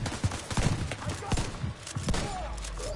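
Several shotgun blasts in Division 2 gameplay, spaced irregularly as sharp thumps with a low rumble between them and light background game noise.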